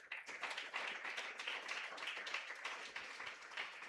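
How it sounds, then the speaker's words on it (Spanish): A church congregation applauds for the Lord, a dense, sustained patter of many hands clapping at moderate distance, steady for several seconds with no voices on top. "Levantémosle un fuerte aplauso al Señor por la vida de ellos."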